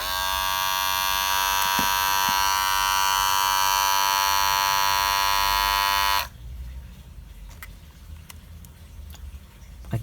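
A Wahl cordless hair clipper runs with a loud, steady electric buzz for about six seconds, then cuts off abruptly, leaving quiet room noise with a few faint clicks.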